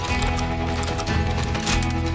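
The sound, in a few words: horse hooves in the video game Call of Juarez: Gunslinger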